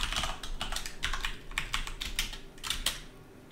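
Rapid typing on a computer keyboard, a close string of crisp key clicks in quick uneven bursts, with no talking over it.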